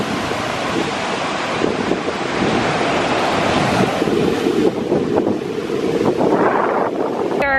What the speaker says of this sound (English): These are wild waves, especially for Formentera, because it hardly happens that the sea is this wild.